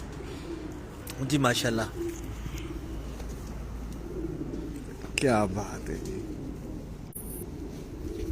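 Pigeons kept by a fancier coo in two low rolling bursts a few seconds apart, moderately close, while someone talks over a steady background hum.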